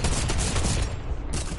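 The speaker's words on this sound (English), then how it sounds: "I'm about to drum shotgun it." Drum shotgun fire in Fortnite, a rapid loud burst of repeated blasts in quick succession, filling the whole moment with dense booming shots.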